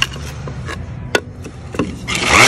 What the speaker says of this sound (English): so I'm gonna sand that.